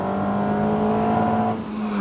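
A Caterham sports car runs a braking time trial at a motorsport event, its engine holding a steady, loud drone with a fairly constant pitch and a slight dip near the end.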